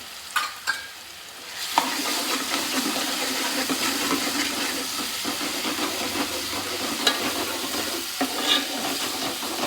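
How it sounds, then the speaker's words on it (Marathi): Ginger-garlic paste sizzles steadily in a hot pan for a homemade Konkan wajri dish. Close scraping and clicking from the stirring cut through the hiss at intervals, with no talking. "मी आलू लसूणची पेस्ट टाकते आणि चांगली ती हलवून घ्यायची"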